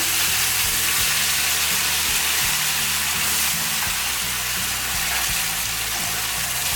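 Tomatoes hit a hot pan with ginger garlic paste and sizzle loudly and continuously throughout, with a steady low hum running underneath.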